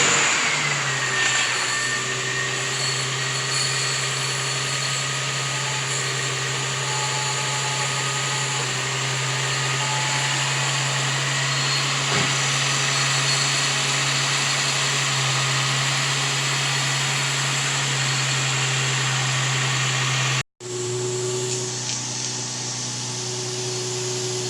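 A freshly rebuilt Nissan 350Z engine runs steadily after starting, a loud continuous hum with a constant low drone and whine, broken by one sudden short cut before the same idle continues.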